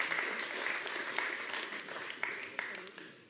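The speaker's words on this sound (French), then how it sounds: "On l'applaudit bien fort." A theatre audience applauds a volunteer called down onto the stage during a live talk on critical thinking. The dense, steady clapping lasts about three seconds and thins out at the end.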